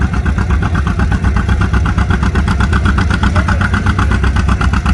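A John Deere tractor at a tractor pull runs with a loud, close, throbbing diesel engine. The fast, steady chugging pulse holds throughout with no speech.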